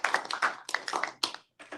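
Applause at a Minnesota Sentencing Guidelines Commission meeting, a small group clapping in close, uneven bursts that break off briefly and pick up again at the end, with no voices.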